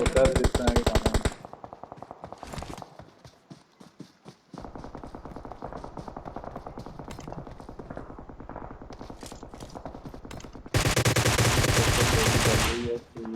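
Rapid automatic gunfire bursts from the PUBG battle royale game, a loud rattling volley at the start, scattered quieter shots in the middle and a dense, loud sustained burst near the end, close and harsh, with faint background game noise.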